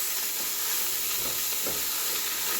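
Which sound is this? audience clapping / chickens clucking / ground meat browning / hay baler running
ground meat browning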